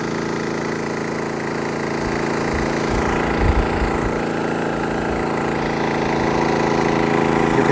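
A Westinghouse iGen4500 inverter generator runs under load with a loud, steady engine drone, a constant mechanical hum and a few heavier low thumps partway through.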